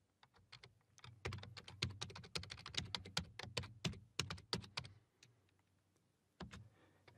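Rapid keystrokes on a computer keyboard in bursts, close and fairly quiet, with a brief pause near the end before a last flurry of taps.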